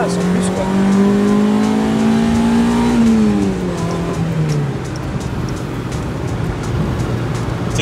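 A Mazda MX-5 NA engine revs loudly and close, its pitch climbing steadily then dropping as it eases off, settling into a steady drone with people talking over it.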